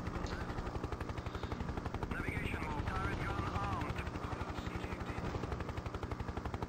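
Mi-24 Hind helicopter in the 1996 game Hind, its steady rotor drone running throughout with rapid gunfire bursts layered on top, loud and continuous, with a voice briefly heard over the combat.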